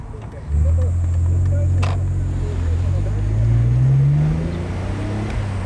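BMW 330ci convertible engine running while driving, a steady low drone that rises in pitch as the car accelerates, loud and close from inside the cabin.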